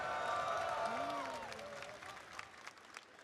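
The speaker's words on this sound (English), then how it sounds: "I want to hear the crowd get hyped" A crowd at the Evo 2026 fighting game tournament cheers and applauds loudly, the roar holding steady before slowly fading, with an announcer's voice rising over it at the start.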